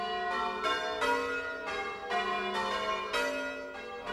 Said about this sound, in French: Ce carillon, très pittoresque, a lui aussi besoin d'être restauré.